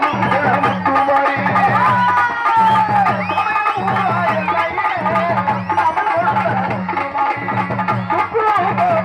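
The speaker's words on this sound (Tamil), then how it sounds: "அப்படி ஒரு ஆரவாரம்" A dense crowd roars and chatters at a Samayapuram-area Amman temple festival with spirit-possession dancing, with loud rhythmic drumming and music pulsing steadily beneath the continuous hubbub.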